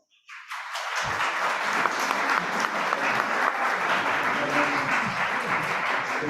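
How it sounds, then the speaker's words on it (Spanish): An audience at a talk on social security at CCH Naucalpan breaks into applause welcoming a professor, the clapping rising from silence within the first second to a full, steady roar of many hands that continues without speech. "para quien pido un fuerte aplauso."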